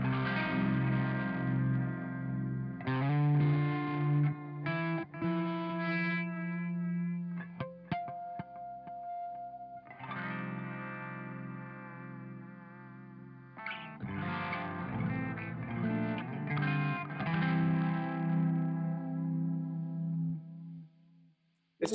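Distorted electric guitar run through harmonic tremolo and tape delay plays sustained chords and riffs with a wavering, echoing shimmer, alone and fairly loud across the whole passage.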